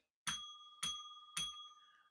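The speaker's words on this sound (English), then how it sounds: "We ringing the bell." A bell rings three times in an even rhythm, each bright metallic strike followed by a sustained ringing tone that decays before the next hit, close and clear with no talking.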